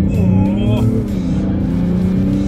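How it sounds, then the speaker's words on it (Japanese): A Mazda CX-60 with a 3.3-litre six-cylinder diesel engine revs under hard acceleration, a loud low rumbling drone with rising and falling pitch, heard from inside the car. "やっぱり6気筒のディーゼルの燃焼音がね本当にいいですね"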